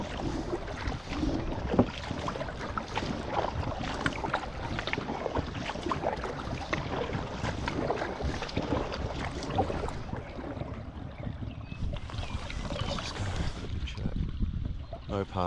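Packraft paddling on the Thur river, with steady water splashing and wash alongside wind buffeting the microphone, continuous and fairly close, easing off toward the end.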